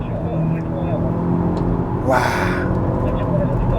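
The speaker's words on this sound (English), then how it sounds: "in N mode, it also has a N power shift. So look, it just shifts brutally" A 2022 Hyundai Elantra N in N mode hums steadily under load, then a sharp, abrupt gear shift with a burst of noise as the power shift kicks in, heard from inside the cabin, with a voice exclaiming.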